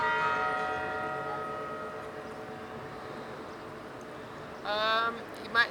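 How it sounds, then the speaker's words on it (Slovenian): Clock bells on the Independence Square clock in Pachuca, Mexico, ring with a fairly faint, sustained tone that slowly fades over several seconds, followed by a brief burst of other sound near the end. "Zdaj pa zaslišimo zvonove z te ure."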